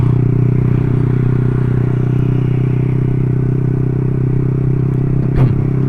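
A steady mechanical rattle and hum from a noisy drive chain on a running 2017 Yamaha R15 V3 motorcycle, continuous and close, with a brief knock near the end.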